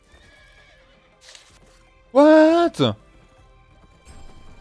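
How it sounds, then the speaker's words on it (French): A horse mount in the online game Revelation Online gives one loud, close whinny partway through, with faint hoofbeats and quiet game ambience around it; a voice briefly speaks. "Pourquoi tu utilises ton cheval là?"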